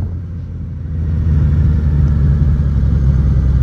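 A 2021 Suzuki Katana 1000 naked motorcycle ridden on a quiet country road, its engine a deep steady rumble that swells as it accelerates, close and loud with no talking.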